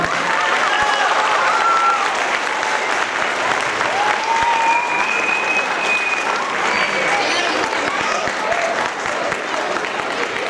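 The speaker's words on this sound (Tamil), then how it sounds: "கடைசியாக கொஞ்சம் கேட்டதுக்கு இவ்வளோ கைத்தட்டல்" Sustained, loud audience applause at a Tamil school's 2025 annual day celebration, a dense wash of clapping from a large crowd, with a few whistles and voices mixed in.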